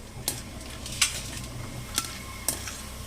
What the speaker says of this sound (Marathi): हे डाळवं आहे, हे पण थोडंसं तळून घेऊ